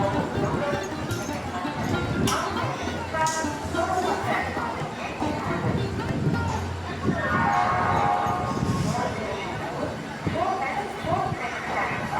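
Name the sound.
train arriving at station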